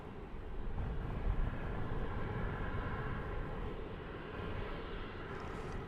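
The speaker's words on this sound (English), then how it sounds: "Alaska Airlines Flight 543 is going to Seattle. It's a" An Alaska Airlines Boeing 737-900 jet airliner at DFW Airport, bound for Seattle, gives off a steady, broad roar that stays loud and even from start to finish, with no voices.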